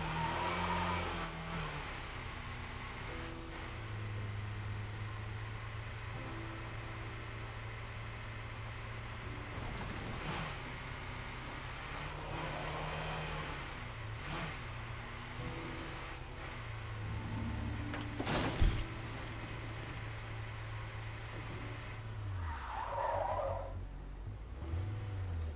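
A Jeep in the video game State of Decay 2 drives with a steady engine drone, occasional revs and tire skids, with a sharp impact near the middle, no voices.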